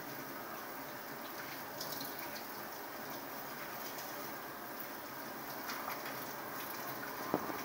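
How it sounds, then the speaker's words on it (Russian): Water runs steadily from a tap over morel mushrooms being rinsed, a soft constant splashing, fairly quiet, with a faint clink near the end. "Каждый гриб промываем. Тщательно, тщательно под проточной водой весь, чтобы песок вышел."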